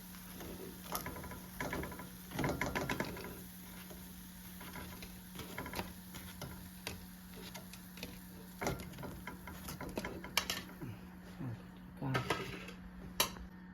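Paniyaram lifted one by one from a hot pan onto a plate, with light metallic clinks and scrapes of utensil against cookware, scattered taps over a steady background hum.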